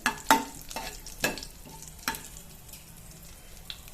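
Green chillies frying in a pan for millet upma, stirred with a few sharp scraping strokes over a soft, steady sizzle, the stirs loud and close at first then thinning to occasional taps.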